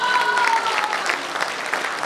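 Applause from a crowd of disabled workers' union members at a Korean book-launch celebration, steady and fairly close, with a faint tone at the start and no speech.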